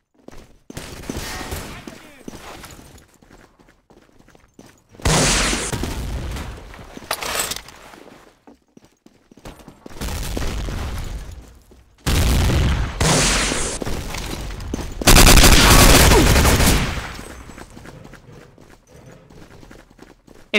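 Gunfire in the World War II shooter Day of Defeat: Source, with bursts of rapid shots and loud booms coming in uneven clusters, separated by quieter gaps with background game noise.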